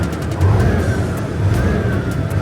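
A Hino 380 Victor truck's diesel engine, fitted with an accelerator module, revs under a pressed pedal, a loud, close, throbbing low rumble rising and falling in two swells, with a faint whine riding above it.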